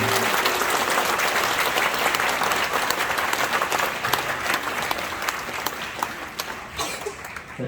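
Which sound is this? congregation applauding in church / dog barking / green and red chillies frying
congregation applauding in church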